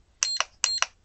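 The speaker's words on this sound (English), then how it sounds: "Hit start, hold start and it makes the beep noise." An Equilibrium 3.5 battery charger gives two identical short double beeps, bright and electronic, close up with silence between them and no talking.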